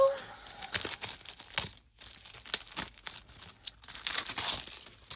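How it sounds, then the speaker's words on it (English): Cutting open a craft-supply package of large cardboard pieces and cards, with close, loud crinkling and tearing of packaging in irregular bursts, and a voice speaking at times. "Let's cut this open."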